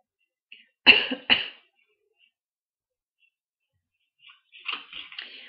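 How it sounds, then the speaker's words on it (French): Two sharp, close coughs in quick succession from one person, followed by silence and then faint muffled throat noises. "je m'excuse, je tousse encore un petit peu"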